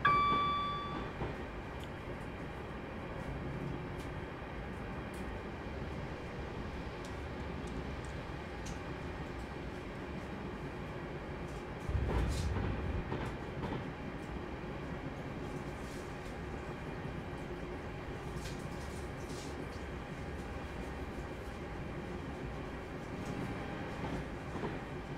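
A Class 350 electric train passing on the West Coast Main Line through the Trent Valley, a long rumbling rattle with clicking wheel beats and a louder surge midway, steady and fairly near with no talk.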